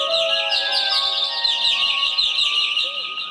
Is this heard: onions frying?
no